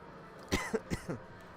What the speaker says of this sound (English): my apologies for any coughing